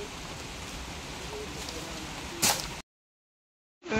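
Heavy rain pours in a steady, dense hiss across an outdoor clearing, with a brief louder burst near the middle before the sound cuts off abruptly and returns faintly at the end.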